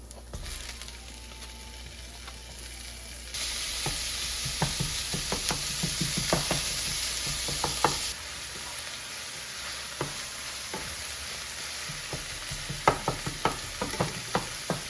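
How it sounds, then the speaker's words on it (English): Ground beef frying with browned onions in a pan, a steady sizzle broken by repeated scraping and tapping stirs that grow more frequent toward the end, with no talk. "Now that the onions are turning brown, I'm going to put in half of this beef."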